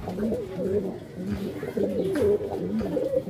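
Repeated soft, throaty coos close by from a racing pigeon of Janssen bloodline, bubbling in a steady rhythm with no talking.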